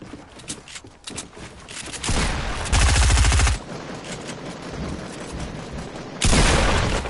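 Rapid gunfire rattles through a Fortnite match, with sustained bursts of automatic shooting, loud heavy volleys near the middle and again at the end, and no clear talk.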